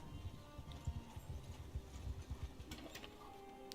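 Horse hooves clip-clopping in Mount and Blade Bannerlord, a quick irregular run of faint thuds, with a brief brighter clatter near the end.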